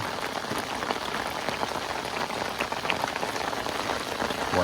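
Heavy rain pours down steadily by a waterside fishing spot, a dense, even hiss of drops striking surfaces without letup and with nobody talking.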